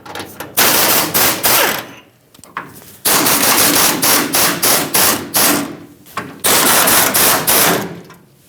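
An impact tool on the frame side of a 2008-2010 Ford F-250 5.4L removes the 10mm bolts on the fuel tank straps, firing in loud, close bursts of rapid hammering separated by short pauses.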